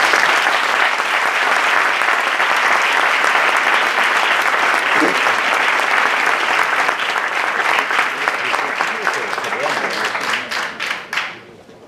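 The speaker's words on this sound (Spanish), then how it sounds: "Un fuerte aplauso para Manuel Valls." Audience at a civic event at La Pedrera, Barcelona, breaks into dense, loud applause that holds steady for about ten seconds, then thins into scattered claps and fades out.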